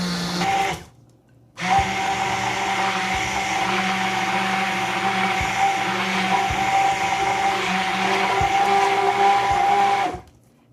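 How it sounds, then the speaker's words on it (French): An immersion hand blender whirs steadily as it mixes almond cake batter for qalb elouz. A brief start is followed by a pause, then one long, loud, even motor drone that runs for about eight seconds before cutting off. "Donc je vais mixer le tout avec un bras mixeur"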